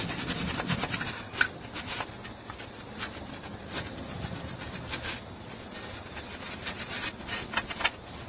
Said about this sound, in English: let's clean up the mating surface with a wire brush